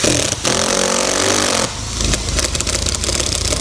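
A power driver runs screws into an RV roof vent during installation, with loud whirring motor bursts. A long steady drive is followed by a short pause, then more grinding, rattling driving.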